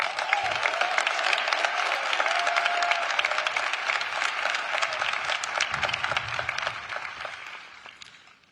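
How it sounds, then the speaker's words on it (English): Sustained applause from the crowd at the Air Force Academy Class of 2022 commencement ceremony, a dense wash of clapping that holds steady for several seconds before tapering off at the end, with no talking over it. "ladies and gentlemen, let's give them a round of applause"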